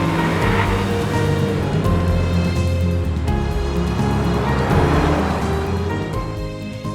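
Fast car driving with a loud, steady engine and road roar throughout, close and continuous, fading slightly at the end.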